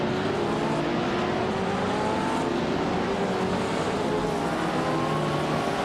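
Race car engines in a racing video game, including a 1961 Cooper T55: a steady, loud drone of several engines whining at high revs, with pitch rising and shifting throughout.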